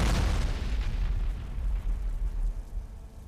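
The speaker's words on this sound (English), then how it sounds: "See how the fire is circling around?" A fire magic spell in the fantasy role-playing game ArcaniA: a heavy, booming burst of flame that rumbles and roars, then slowly fades over a few seconds, with no speech.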